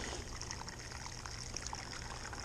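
Water pours over a spoon onto a grain bed in a soft, steady trickle, quiet and continuous throughout, with faint splashing.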